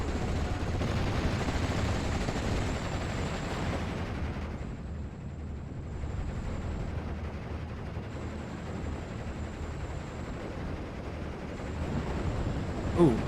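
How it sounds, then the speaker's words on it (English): Sexton self-propelled gun firing in the Steel Division 44 war game, a dense rumbling battlefield din of booms and gunfire filling the scene steadily, briefly thinning midway before swelling again. "Sexton firing this very strange angle"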